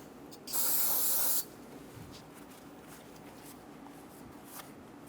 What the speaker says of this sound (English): spray down the area with a bit of parts cleaner, and wipe it with a clean rag